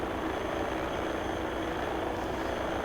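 Helicopter heard at an airfield, a steady loud rotor and engine drone with a continuous rumbling throb, no voices over it.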